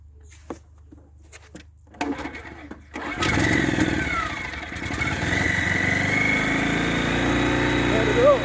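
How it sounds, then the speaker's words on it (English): A portable generator at a cabin is pulled into life, sputtering after a few handling knocks, then settles into a loud, steady, close running drone. "topping up the fuel on the portable generator. So let's give that a quick fire up."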